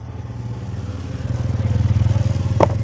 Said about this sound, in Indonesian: Ini saya selah dulu.